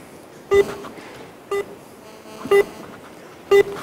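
Four short electronic beeps from a phone on speaker dialing sound about a second apart, like keypad tones, over a faint background hiss.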